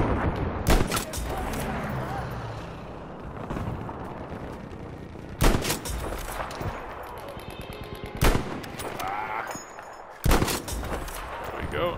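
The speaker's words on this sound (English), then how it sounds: "That guy has a Bren gun." Automatic Bren gun fire in the World War II shooter Battlefield V on the Hamada map, sharp bursts of shots at several points over distant battlefield rumble and scattered background gunfire.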